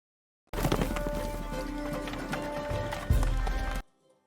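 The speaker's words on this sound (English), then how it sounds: "They're racing their horses." Horses racing at a gallop in a film about two older brothers riding together, a dense rush of hoofbeats and movement under a full soundtrack, loud throughout, with a heavier thud near the end before it cuts off.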